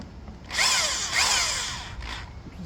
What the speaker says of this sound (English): I have this old hanger that I bent and twisted that I'm going to stick in my drill.